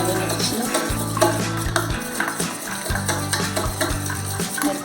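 Egg and flour batter with salt and chopped onion stirred in a bowl, a steady scraping and sloshing that runs throughout at moderate loudness over a low, continuous hum.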